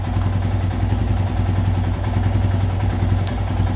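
A Royal Enfield Himalayan motorcycle engine idles close and loud with a steady, rhythmic single-cylinder thump and light mechanical clatter, with no voices.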